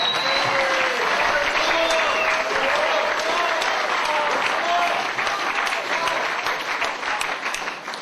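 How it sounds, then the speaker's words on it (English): Dense, sustained applause fills a wedding reception as guests clap for the groom, Matthew, steady and loud throughout with cheering voices mixed in, tapering only slightly near the end. "big round of applause for the man of the moment, Matthew"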